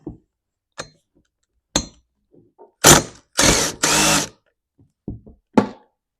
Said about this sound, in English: Let's remove the flywheel.